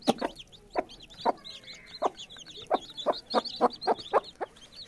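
A hen clucks in a regular series of close, sharp calls while chicks peep softly and continuously around her as she shows them rice to eat.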